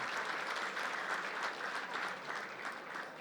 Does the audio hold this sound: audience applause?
yes